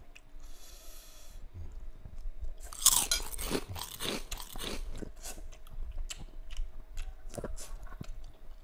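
Crunchy chewing of sweet corn from sayur asem, a sour Indonesian vegetable soup: close, wet bites and repeated crisp crunches that cluster in bursts and fade into softer mastication and breathing.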